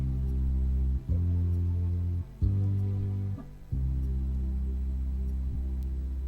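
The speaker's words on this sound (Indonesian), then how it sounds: "Tapi kalau kita tekan ACMP jadi seperti ini." Electronic keyboard playing in auto-accompaniment style, with steady sustained chords over a bass line, broken by a few brief pauses between sections.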